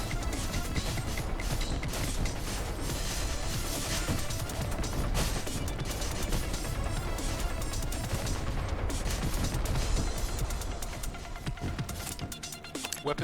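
A weapon damage turret in Battlethorne: Survivors fires continuously amid a dense clatter of rapid shots, impacts and crashes that keeps up throughout and thins briefly near the end.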